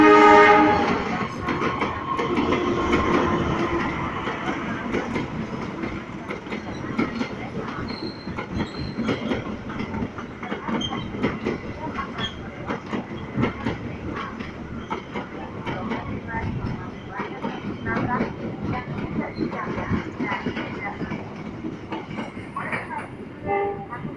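Trains pass through Kediri station: a long, steady rolling rumble of railcars and clattering wheels, with horn blasts and occasional wheel squeal, loud and close throughout.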